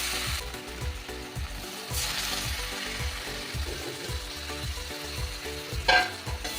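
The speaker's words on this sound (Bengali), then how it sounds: "ভালো করে ভেজে এবার এই এঁচোড়ের তরকারিটা দিয়ে দেব।" Jackfruit curry with green chilies and grated ginger frying in a pan, a steady sizzle with rhythmic scraping stir strokes of a spatula, close and fairly loud, with a brief sharper clatter near the end.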